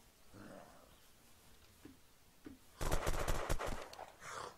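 Rapid shotgun blasts from the zombie survival game Unturned, a dense loud volley of shots after a quieter stretch with scattered thumps, followed by a short burst of noise.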